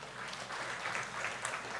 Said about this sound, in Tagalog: ang palakpak pa sa Panginoon